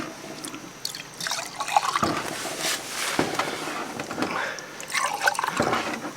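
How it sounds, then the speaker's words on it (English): Diesel fuel or kerosene is poured into the intake ports of a 1967 Nova engine, giving uneven gurgling, splashing fill sounds with drips and brief pauses between pours. "start pouring diesel fuel, kerosene, whatever I had into these intake ports"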